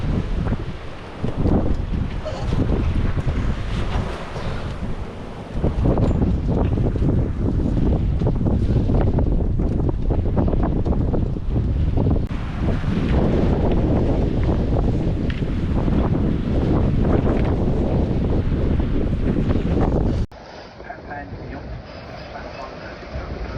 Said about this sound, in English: you probably can't hear what I'm saying because of the wind